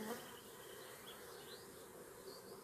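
Honey bees hum in a steady, close buzz at an opened beehive during a first hive inspection of the season, the drone continuous and fairly faint, with no one speaking.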